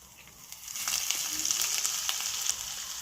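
Ghee tempering for spicy pongal, with mustard seeds, cumin and grated ginger sizzling in a pan: a steady, close, hissing crackle that swells after the first second and then holds loud and dense throughout, with no voices.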